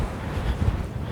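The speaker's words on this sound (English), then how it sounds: "once it gets this windy on a links course" Strong gusts buffet the microphone on a windy links golf course, a low rumbling roar that swells and dips throughout the brief moment, with no speech.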